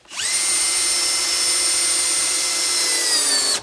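Bosch GSR 12V-35FC cordless drill driving a 100mm screw, a steady high whine that holds for about three seconds before stopping abruptly, close and loud, with no voices.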